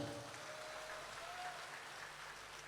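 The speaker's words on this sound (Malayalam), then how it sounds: "നല്ലൊരു കൈയടി കൊടുക്ക്" An audience at a stage event clapping steadily for an arriving guest, a wash of applause from a crowd heard at moderate distance throughout.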